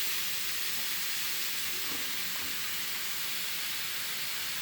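Chopped bottle gourd hits a hot sauté pan with dried shrimp, giving a loud, steady, dense sizzle that hisses continuously throughout.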